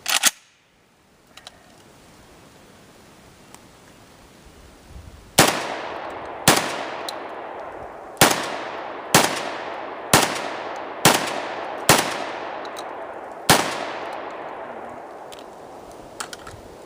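Vepr-12 shotgun firing Federal multi-purpose loads outdoors: nine loud, sharp blasts, each followed by a decaying echo, fired at a steady pace and then a short pause before the last one; no voices.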